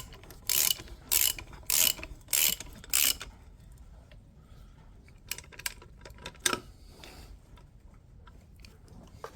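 Five sharp, evenly spaced bursts of a ratchet socket wrench clicking as it turns, loud and close, followed by scattered fainter mechanical clicks and knocks.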